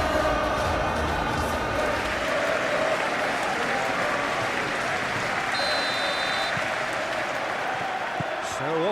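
Capacity stadium crowd in the PES 21 football game before a Crystal Palace vs Chelsea Premier League match, a steady broad roar of applause and cheering held at a constant level throughout.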